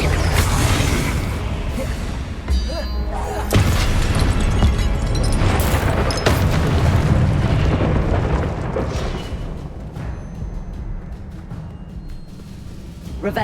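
The Confringo explosion spell in the video game Hogwarts Legacy blasts repeatedly: loud, dense booms and crackling bursts overlap into a sustained roar for the whole stretch, with whooshing tails fading between impacts, and game voices mixed underneath.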